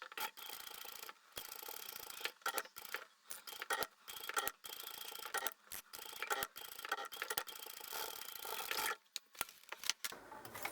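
A sewing machine stitching fabric along a curved edge of a book bag, with soft rapid mechanical whirring in short bursts and brief stops, fairly quiet and close.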